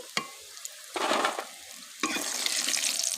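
Small pieces of khasta gaja, a crisp Bengali fried dough sweet, fry in hot oil and are lifted out. Short stirring clinks come first, then louder, bursting sizzles of oil surge up and hold steady.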